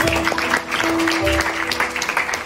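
A church congregation claps during a New Year's Day worship service, a moderate, brief patter of applause in a reverberant hall.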